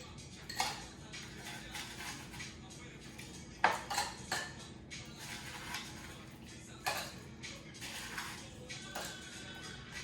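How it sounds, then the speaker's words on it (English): Crushed ice going into a glass for a mojito: quiet scattered clinks and crunchy taps of ice against glass, a few sharper knocks among softer rattles, close and faint with no talking. "So I'm gonna put some ice, crushed ice."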